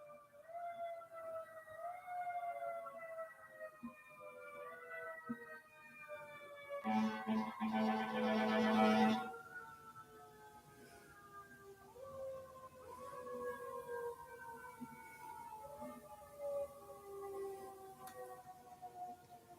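Several distant sirens wail and rise and fall in overlapping tones, with a brief louder burst of noise partway through.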